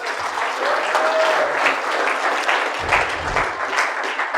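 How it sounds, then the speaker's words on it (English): Audience at a Toronto corporate kick-off event applauds steadily, a dense wash of clapping from many hands, with brief low rumbles and no clear voices. "let's give a round of applause to everyone sitting in the audience"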